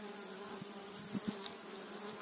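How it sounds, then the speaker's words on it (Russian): Honey bees buzzing at a swarm trap outdoors, with a faint, steady hum and a couple of brief closer passes, alone without talk. "Понаблюдаем немного за пчелами."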